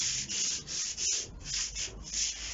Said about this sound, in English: So we'll just get a bit of a good roll going. And we'll just sand some of it off.